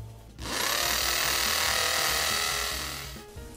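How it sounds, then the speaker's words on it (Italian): A hammer drill starts abruptly drilling into a concrete wall and runs at a high, steady whine for about three seconds before winding down, close and loud. "Lavorando su una parete di calcestruzzo si deve attivare la percussione del trapano."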